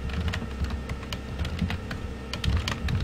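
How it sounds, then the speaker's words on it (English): Rapid typing on a computer keyboard, a close run of crisp, irregular key clicks and clacks, steady throughout with no speech. "He's typing, give him a second."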